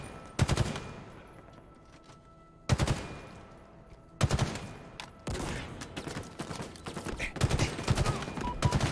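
Battle rifle gunfire in Halo Infinite, loud close bursts of rapid shots with pauses between volleys, some sharp attacks followed by decaying echoes, no talking.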